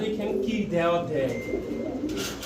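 Fancy-breed pigeons for sale coo in soft throaty bursts close by, mixed with people talking and rustling in the background.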